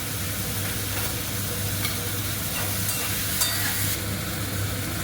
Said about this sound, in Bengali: এদিকে একটা ভালো মতো আমি ভেজে নিচ্ছি আলুটা।